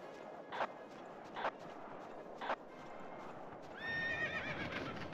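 Carriage horses in the Battlefield video game neigh with a long whinny near the end, after three short bursts of hoof clatter at steady intervals over a dull, rumbling battlefield backdrop.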